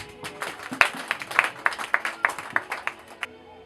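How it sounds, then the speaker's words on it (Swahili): A church congregation claps in a steady rhythmic beat, many hands striking together in even pulses for a few seconds before stopping. "Tupigie tu Yesu makofi"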